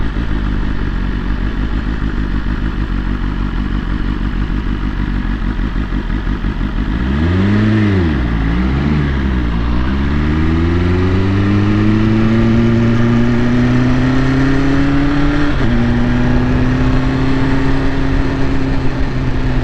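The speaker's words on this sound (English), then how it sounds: "Another big ass tractor." A large tractor drives past nearby, its deep engine rumble swelling and shifting pitch as it passes, then settling into a steady drone alone over continuous road noise.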